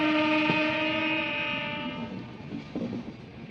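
A train at Chhapra Junction railway station, with a drawn-out horn blast that fades within a couple of seconds, followed by rumbling wheels and faint clatter from the tracks, heard at moderate distance.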